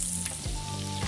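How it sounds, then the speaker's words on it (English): Salmon and shrimp sauté in a hot pan with a steady, close sizzle and fry crackle, a few soft stirring scrapes breaking through the continuous hiss. "we have the seafood, salmon, and shrimp already sauteing"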